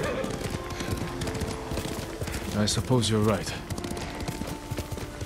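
Rhythmic hoofbeats of a galloping horse in the samurai video game Ghost of Tsushima, steady clip-clop under close dialogue, with a brief whinny in the middle.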